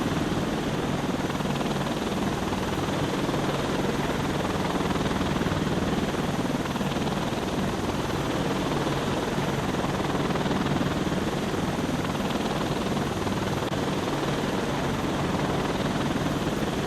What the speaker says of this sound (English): I kind of feel like this helicopter's a little bit more powerful and a little bit easier to fly than the last one